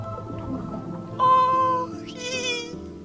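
A pet cat meows close by, one clear drawn-out cry followed by a rising, higher-pitched second meow, over faint background game music.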